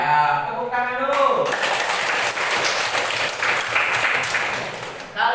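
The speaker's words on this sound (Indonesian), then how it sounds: "tepuk tangan dulu" A class of students clapping in groups during an Islamic religious education lesson, a full crowd-like patter that starts after a brief spoken line and stays steady before tapering off.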